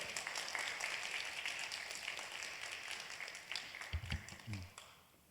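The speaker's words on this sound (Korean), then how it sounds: "박수로 환영하도록 하겠습니다" A crowd at a church prayer service applauds steadily, a dense wash of clapping that thins toward the end, with a few louder thumps near the close.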